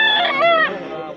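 A rooster crows once on a farm in Ubay, Bohol, close and loud, the call rising then trailing off in a single drawn-out cry.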